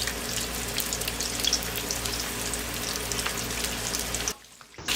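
Chicken cheese rolls fry in hot oil with a steady, close sizzle and dense crackling bubbles, cutting out briefly near the end.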